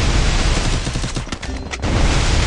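A sustained volley of automatic weapon fire in the Free Fire battle game, loud and dense, with a brief thinning of shots near the middle before the rapid bursts return at full strength.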